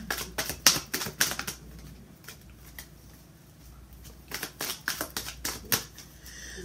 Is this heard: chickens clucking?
no